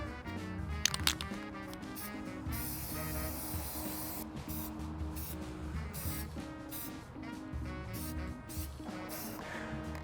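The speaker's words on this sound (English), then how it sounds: "So now I'm going to use some spray paint." A spray paint can hisses over a custom stencil decal in steady, even strokes, a continuous close airy spray with short pauses, over faint background music.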